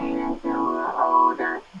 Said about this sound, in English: There's a vocoder up here, but it just sounds like this.